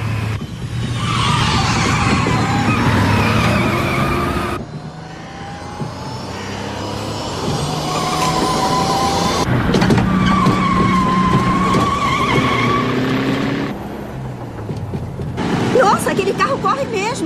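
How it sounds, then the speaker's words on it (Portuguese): A Volkswagen Beetle races at high speed in a film scene, with loud engine roar, shifting revs and squealing tires over about seventeen seconds, mixed with voices and dramatic sound effects. "Nossa, aquele carro corre mesmo."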